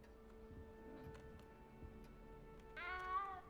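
A cat in the Hogwarts Legacy video game gives a single clear meow near the end, heard close over a quiet background of soft ticking game ambience.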